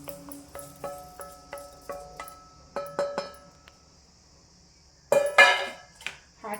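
A cooled summer drink mixture is transferred into a mixer-grinder jar: a series of evenly spaced metallic spoon taps and clinks, then a brief sloshing pour near the end, close and clear in a quiet room.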